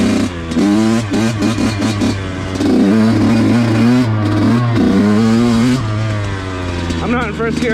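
A Tomahawk MX dirt bike on a trail revs hard and close in repeated bursts, its engine pitch rising and falling with gear changes while a rider's voice is heard over it.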